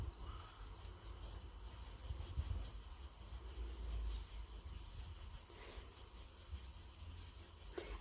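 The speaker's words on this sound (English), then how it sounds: "when you're using soft pencils. And then scribbling." Quiet, scratchy rubbing of soft pencil on paper, continuous back-and-forth scribbling close up with faint rasping strokes.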